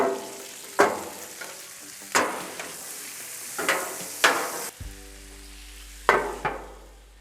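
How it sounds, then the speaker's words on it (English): Blackstone Islander stir fry sauce sizzles as it hits T-bone steaks on a Blackstone griddle, a steady frying hiss broken by several sharp spattering pops and crackles, close and fairly loud with no voices. "We're gonna go ahead and put this Islander stir fry from Blackstone and douse that in there."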